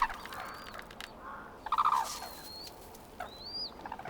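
Red-crowned cranes in wintry Japan give a brief, rattling burst of calls over a steady outdoor ambience, with a few thin, faint whistling cries around it.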